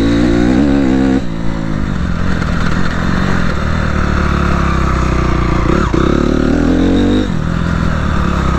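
A Honda CRF250R dirt bike ridden on a track, its engine loud and close, revving hard and continuously with rising and falling pitch as the rider shifts and throttles.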